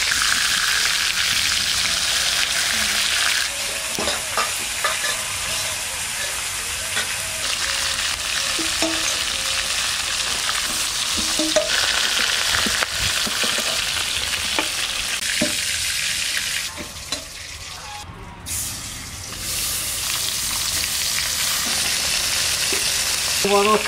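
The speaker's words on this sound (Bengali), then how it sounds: "হালকা করে ভেজে নেব, উল্টে পাল্টে দিয়ে তুলে নেব।" Fish coated with salt and turmeric fries in a pan, a continuous loud sizzle with occasional crackles and soft stirring sounds, with no talking over it.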